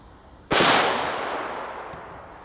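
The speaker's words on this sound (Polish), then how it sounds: "ja sobie biorę te petardy, rzucam sobie je" A single German Titanschlagblau firecracker with about 1.5 grams of black powder bursts with a sharp, loud crack close by, followed by a long fading echo and rumble.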